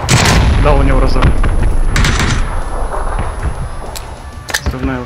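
Gunfire and grenade blasts in a PUBG squad match ring out loud and close, sharp bursts that decay into rumbling noise, while players talk over the action.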